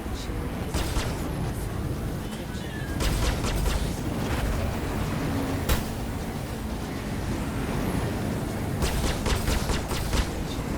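Space combat in Elite Dangerous, with a dense roar of weapon fire and bursting blasts, several sharp cracks standing out over a constant loud rumble.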